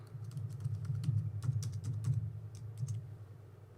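Someone types on a computer keyboard, with quick, irregular key clicks at close range and soft thumps underneath, heard on their own with no talking.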